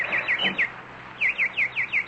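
A single nightingale sings in a radio mystery drama, a run of short, bright rising-falling chirps in two bursts with a pause between them, fairly close and clear with no voices over it.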